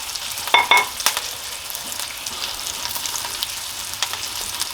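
Steak sizzling in a hot pan with thyme and rosemary, a steady even crackle with a few sharper pops early on, heard alone and fairly close.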